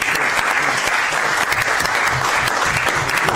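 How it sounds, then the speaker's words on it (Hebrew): Members of a Herzliya council meeting give a loud, continuous round of applause, a dense wash of clapping that stays even from start to finish. "מגיע להם כפיים, באמת."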